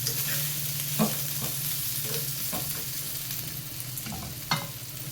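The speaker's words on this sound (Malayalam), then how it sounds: "ഇളക്കി മിക്സ് ചെയ്യാം. നമ്മളിതിൽ ഒട്ടും വെള്ളം ചേർക്കുന്നില്ല." Brinjal mezhukkupuratti frying dry in a pan with no water, a low steady sizzle under several distinct scraping strokes of a spoon stirring the eggplant, close and clear.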